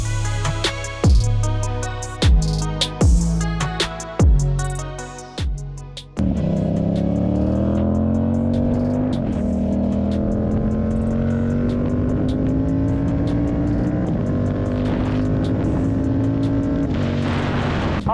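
A 2023 Yamaha R7 motorcycle revs in several sharp blips, each cut quickly by a quick shifter, then settles into a loud steady engine drone that climbs slowly in pitch while riding, close and continuous.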